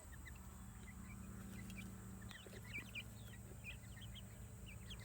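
Backyard chickens on a homestead give soft, scattered clucks and chirps, faint and somewhat distant over a steady low background hum, with no talking.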